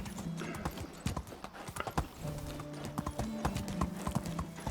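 A horse's hooves clip-clop steadily on the ground in the Medieval Dynasty video game, a close, rhythmic run of sharp clopping strikes with faint low tones in the background.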